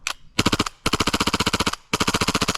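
A CO2 airsoft pistol firing full auto in three rapid bursts of sharp, evenly spaced cracks, loud and close, with short gaps between bursts.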